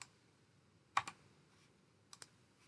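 Mouse clicks while drawing map features in QGIS, a few sharp taps in two pairs spaced about a second apart, close and fairly soft against a quiet background.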